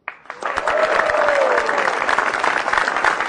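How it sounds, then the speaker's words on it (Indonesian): Applause breaks out at a stand-up comedy show, a quick swell into loud, continuous clapping from the audience that holds steady, with a brief voice or cheer rising above it early on. "Langsung aja beri tepuk tangan yang meriah buat Aco."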